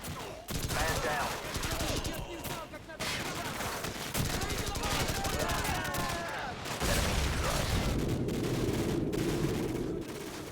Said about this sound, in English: An exploding red barrel.